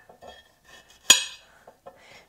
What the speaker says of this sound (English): chopping off both ends